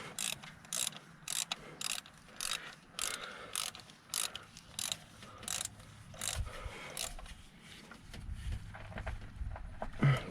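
Ratchet wrench tightening spark plugs on a 2008 Nissan Rogue, a run of quick rhythmic clicks in short bursts close by, with faint low rumble and a slight knock near the end.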